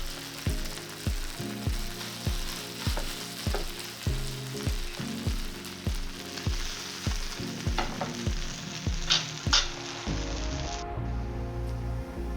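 A vegan goetta patty fries in olive oil on a griddle, a steady close sizzle and crackle under repeated rhythmic scraping or pressing strokes about twice a second, ending with a brief clatter.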